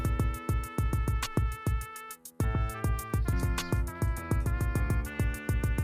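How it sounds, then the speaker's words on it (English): Upbeat electronic music with a fast, steady beat plays through a small smartwatch speaker, bright and slightly tinny, briefly dropping out before resuming. "let's go ahead and play some music"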